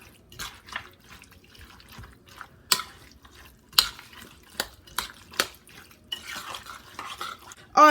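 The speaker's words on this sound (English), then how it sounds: "We're going to give it a quick stir until it's well incorporated." Sour cream being stirred into a corn casserole mixture in a bowl, soft wet squelches and scattered clinks of a spoon against the bowl, close and fairly quiet, with no voices.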